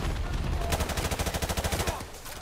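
Automatic weapon fire in Modern Warfare Remastered comes as a rapid, evenly spaced burst of about a dozen loud, close shots after a short lead-in of game noise.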